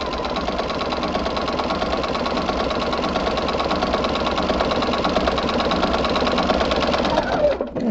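A sewing machine fitted with a walking foot runs decorative stitches along quilt binding, a continuous close, fast mechanical whir with rhythmic clatter that stops abruptly at the very end.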